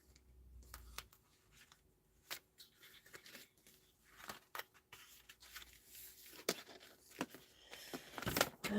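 Scissors snip through cardstock during card making: quiet, irregular cuts and paper rustles close by, with a sharper crisp burst of cutting and handling noise near the end.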